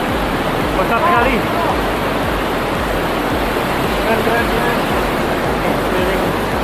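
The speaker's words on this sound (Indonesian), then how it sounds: "Wow, deras sekali airnya." Loud, steady rushing of the Coban Waru waterfall and river on a mountain trail near Pacet, a dense unbroken roar close by throughout.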